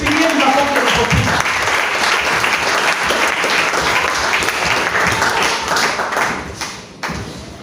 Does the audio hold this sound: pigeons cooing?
no